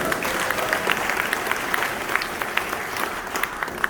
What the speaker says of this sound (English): let us give them a round of applause and lift their spirit